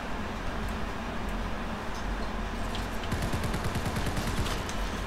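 Rapid gunfire bursts from a PUBG solo match on PC, a dense rattling volley building toward the end over a steady background rumble.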